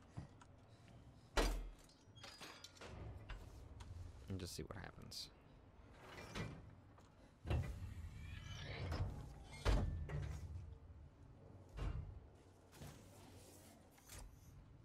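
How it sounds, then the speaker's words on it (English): A door mechanism in the video game Alien: Isolation opens with sliding and mechanical thuds, heard in several bursts under a player's running commentary. "open that one door that had a brace on it"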